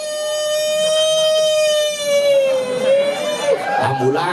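A voice imitates an ambulance siren, a sustained wavering wail that holds steady and then bends and warbles, with a crowd murmuring and laughing faintly underneath.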